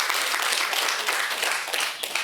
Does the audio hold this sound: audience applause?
yes